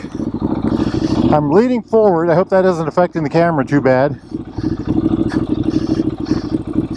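The air-cooled push-rod engine of a 2014 Norton Commando 961 SF rumbles steadily throughout while being ridden, with wind noise, as the rider talks over it for a few seconds.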